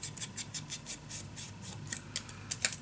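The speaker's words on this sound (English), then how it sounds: "then just cut a small corner off" Scissors snip a small corner off paper in a papercraft mini album project, a quick run of soft, rhythmic cutting strokes close by, faint and with no talk.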